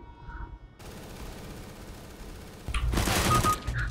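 First-person shooter gunfire landing a headshot, with a short burst of sharp shots followed by a louder rapid volley near the end.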